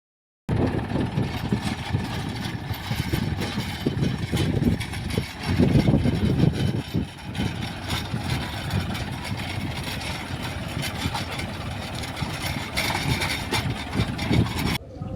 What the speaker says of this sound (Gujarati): એની અંદર પતરા હાંકવા માટે આવી ગયું ટ્રેક્ટર